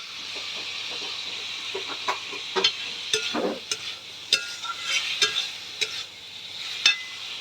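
Fried potatoes sautéing in oil in a pan, a steady soft sizzle with repeated scraping and knocking spatula strokes at an uneven rhythm, close and with no voices.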